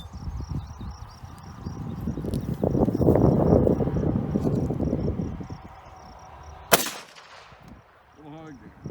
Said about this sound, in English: we're gonna be shooting this at about 40 or 45 to 50 yards, somewhere in there, with the M1 carbine, using 110 grain full metal jacket